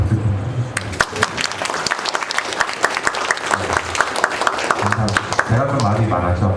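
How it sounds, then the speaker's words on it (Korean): Audience applause at a documentary screening in a hall, a dense, loud round of clapping with sharp individual claps standing out, sustained throughout with a voice briefly speaking underneath. "보통 여기 박수 좀 쳐주시면"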